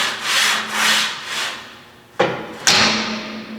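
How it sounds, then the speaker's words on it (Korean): A Pentagon Smith machine in use during exercise: several sliding, rubbing strokes of the bar carriage, then two sharp, loud clanks close by, with no talking. "스미스 머신의 소음은 이 정도가 됩니다."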